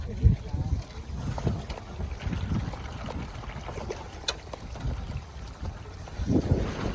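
Breeze buffets the microphone during a bamboo raft ride on a river in Guilin, China, with low gusting rumble, faint water trickles and occasional distant voices.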